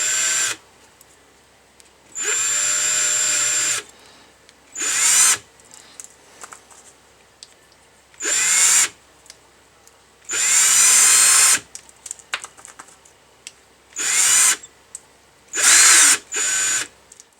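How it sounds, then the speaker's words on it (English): A chamfer tool deburrs white Delrin washers on a small power tool, with repeated short bursts of high whining spin, each lasting one to two seconds and separated by quiet pauses and light handling clicks. "this is by far the best chamfer tool I've found for doing these"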